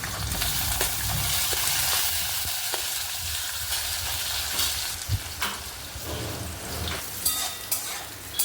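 Potatoes fry in hot oil with torn dried chilli and bay leaf, a dense, steady sizzle up close, broken by scraping stirs and occasional pops over several seconds, with no speech.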